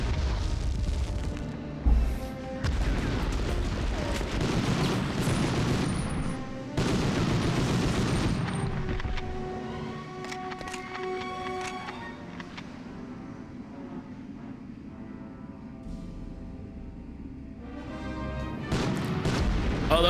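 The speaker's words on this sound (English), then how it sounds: "Oh, fuck, grenade." Repeated grenade blasts and battle booms from Medal of Honor on the PlayStation, 1999, loud and dense at first, then fading to a steadier din with tonal game sounds before the heavy explosions return near the end.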